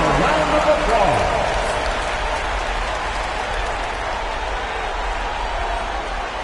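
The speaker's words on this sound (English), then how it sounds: "Give yourself a round of applause." Arena crowd applause and cheering in an NBA 2K basketball video game, a broad wash of noise under game commentary with a faint ball bounce near the start.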